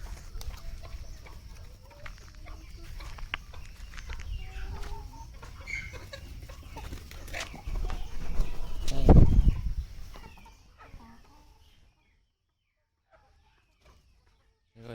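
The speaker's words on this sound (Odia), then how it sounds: "କୁକୁଡ଼ା ମାନେ ଦେଖନ୍ତୁ ପାଖକୁ କେମିତି ଆସୁଛନ୍ତି ଖାଇବା ପାଇଁ" Free-range desi chickens cluck and call around feeding time on a village farm, a busy close flock with a louder burst near the end before it goes quiet.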